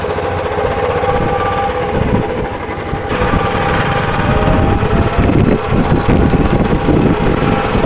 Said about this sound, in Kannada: ಸೊ ಈ ವರ್ಷದ ಫಸ್ಟ್ ಕಿಕ್ಕ, ಮೊದಲನೇ ಕಿಕ್ಕಲ್ಲೇ ಸ್ಟಾರ್ಟ್ ಆಗೋಯ್ತು.